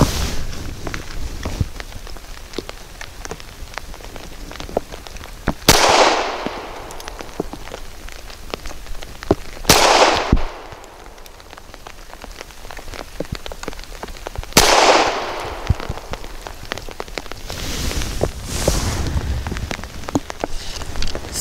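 Gunshots from a SCCY CPX-4 pistol firing Ruger ARX 56 grain ammunition at a target, with four sharp, loud reports spaced several seconds apart over steady outdoor background noise.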